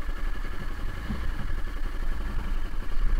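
A motorcycle engine runs with a steady, close, rumbling mid-pitched drone and a light clatter, with no voices.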